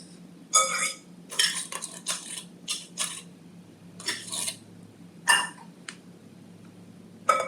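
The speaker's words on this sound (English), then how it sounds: "Mix this together." Spaghetti squash, mozzarella and tomato sauce get mixed in a bowl, with a run of sharp utensil clinks and scrapes against the dish coming in uneven bursts, close up.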